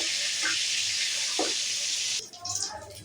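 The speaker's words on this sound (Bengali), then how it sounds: "মাছগুলো সুন্দরভাবে ভাজা হচ্ছে।" Fish frying in hot oil in a pan give off a loud, steady hissing sizzle up close for about two seconds, and then the sound drops off into a lighter crackle with some faint kitchen clatter.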